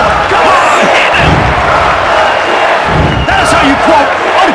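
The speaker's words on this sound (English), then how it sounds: "Why are they cheering for him?" A loud video game crowd roars and cheers throughout a wrestling match in WWF Attitude on Dreamcast, a dense wall of voices with some shouting rising above it.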